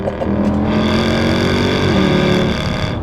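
A Mercedes C63 engine roars loudly and steadily, its pitch shifting as it revs through a downshift, with no talking.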